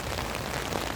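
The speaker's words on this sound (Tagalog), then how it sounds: "sana wag naman lumakas ang ulan" Steady rain falls during Typhoon Uwan, a dense, even hiss of drops striking surfaces at a market, continuous and fairly loud with no voices.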